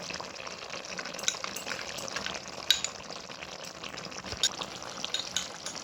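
Water from a rinsed bowl is poured into a pan of poppy seed paste for jhinge alu posto, sizzling and bubbling steadily at close range with faint clinks.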